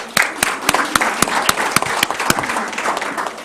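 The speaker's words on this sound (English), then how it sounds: "Let's give a round of applause for our city council members up here." Applause for city council members at a youth government day council meeting, a few sharp individual claps standing out at a steady rhythm over a softer background of clapping and room noise.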